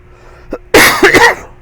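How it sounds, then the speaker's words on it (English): One loud, close allergy cough bursts out after a brief throat sound, a short harsh, sneeze-like fit lasting under a second. "I apologize for all this coughing."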